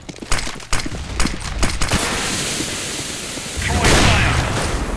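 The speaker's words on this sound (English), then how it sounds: "Grenade." A grenade blowing up in a first-person shooter video game: a burst of rapid gunfire gives way to a loud, sustained blast roar that swells again near the end.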